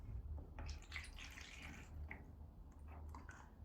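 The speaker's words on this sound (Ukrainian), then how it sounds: "Переливаємо воду із склянки у іншу ємкість." Water is poured from a glass into another container, producing faint, quiet splashes and trickles spread through a short stretch.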